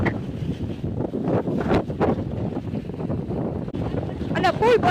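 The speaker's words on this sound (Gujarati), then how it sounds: "અને ફૂલ પવન હે લ્યો ને." Strong gusty wind buffets the microphone in rough, uneven bursts during a cyclone, with a person talking over the roaring gusts.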